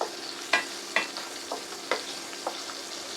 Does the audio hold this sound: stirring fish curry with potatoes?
yes